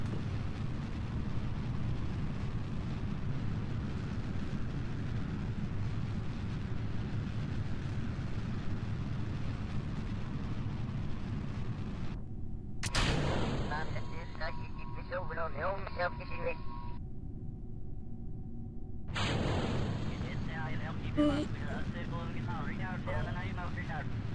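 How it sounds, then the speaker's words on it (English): Solid rocket boosters roaring in an animated space program game: a steady loud low rumble throughout, briefly cut off by abrupt sharp bursts and a gap, under someone talking. "This is why I don't like solid rocket boosters."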